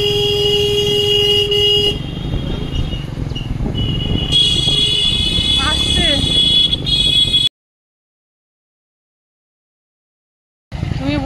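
Car horns honk repeatedly, some long and some short, over steady engine rumble in a jammed morning road, with people talking nearby; the sound cuts out briefly before resuming.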